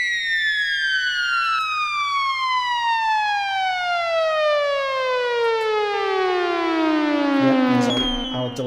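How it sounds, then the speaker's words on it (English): A preset on the Arturia EMS Synthi V synth sweeps slowly downward in a long, bright, harmonically rich glide, thickened by a shimmering chorus, loud and sustained, with no talk. "And there's the chorus, shimmering chorus"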